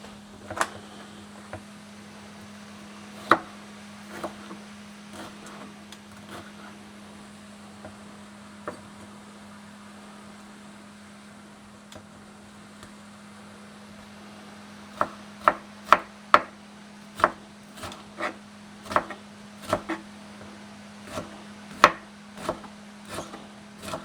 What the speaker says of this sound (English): The reason also for chopping it into small bits is because it gets ready much more faster.